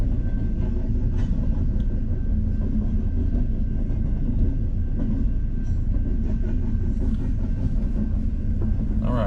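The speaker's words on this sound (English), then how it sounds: "That's a really long train, holy cow." A long train rolls past on railroad tracks in Decatur, Texas, a steady loud rumble with faint clickety-clack and rattling wagons that continues unbroken throughout, with no voices.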